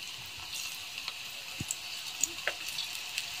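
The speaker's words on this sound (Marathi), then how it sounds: "आता आपण एक एक करून कारले छान तळून घेऊ आता" Bitter gourd (karela) pieces frying in hot oil, a steady faint sizzle with a few soft pops and crackles as pieces are dropped in, no talking.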